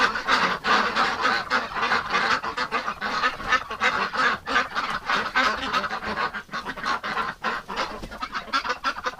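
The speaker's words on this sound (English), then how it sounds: "But there are so many pretty ducks." A crowd of ducks packed inside a coop quacks and honks continuously, loud and close, with overlapping calls and no pauses.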